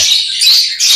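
Fledgling opaline lovebirds chirp in a dense, continuous chorus of high, overlapping tweets and squawks, fairly loud and close, with no voices.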